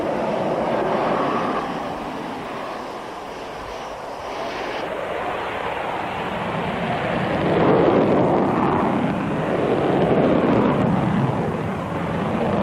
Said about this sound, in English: It's, in fact, commonly known as the flanker, this aircraft.